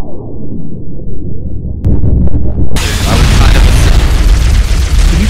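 A loud, booming explosion in a Halo campaign game, set off by a rocket launcher near a Covenant battleship. The blast cuts in abruptly and leaves a dense roar that fills the rest of the moment, with talk running alongside.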